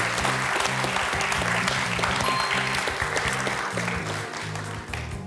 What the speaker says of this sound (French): Très applaudi par toute la salle.